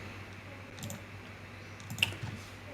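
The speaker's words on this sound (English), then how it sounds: "So we'll right click on this" A couple of faint computer mouse clicks during stock-chart work, quiet and brief against low background hiss, with no talking.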